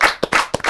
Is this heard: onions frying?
no